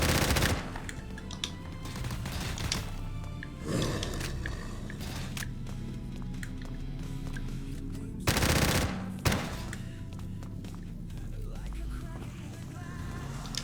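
Rapid automatic gunfire from a weapon in a Roblox shooter game, sustained bursts that run nearly the whole time with a couple of louder blasts, dense and loud, with game noise underneath.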